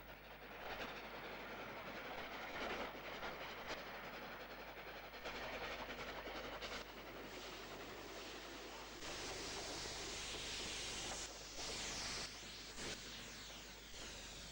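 Steam trains on a UK main line, a Black 5 hauling a five-coach semi-fast passing a Jubilee: a steady roar of train noise with rhythmic clickety-clack of wheels and rushing wind, fairly distant and continuous.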